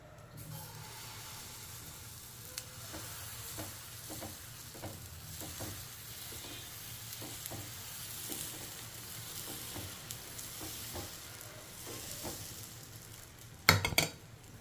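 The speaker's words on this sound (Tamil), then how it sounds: "இதில் தோசை ஊற்றி காட்டுறேன்னு சொன்னல இப்போ ஊற்றி காட்டுறேன்" Dosa batter on a hot pan, a soft low sizzle running throughout with regular quiet scraping taps, ending in a louder metallic clatter, no speech.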